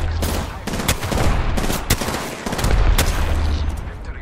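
Repeated bursts of gunfire from the video game Apex Legends, including Mastiff shotgun blasts, crack out in irregular sharp volleys over a dense, noisy battle background.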